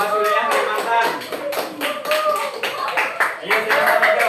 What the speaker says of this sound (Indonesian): Tepuk tangan dulu untuk kelompok pertama yang membahas wilayah Kalimantan.